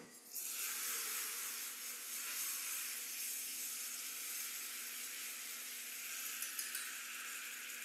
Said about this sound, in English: Now I will slowly deglaze it with the vinegar